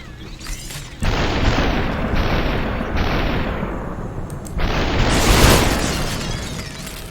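Loud gunfire from the game Superhot: several dense, roaring bursts that run together for seconds at a time, with brief drops between them and a heavier burst near the end, no voices.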